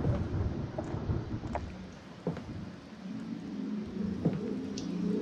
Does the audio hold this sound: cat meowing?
no